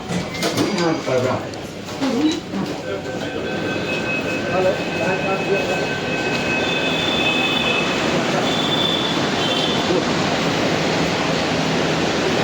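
A Mumbai metro train at Gundavali station pulls away with loud rumbling and sustained high wheel squeal, after someone talks briefly at the start.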